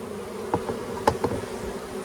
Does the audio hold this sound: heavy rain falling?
no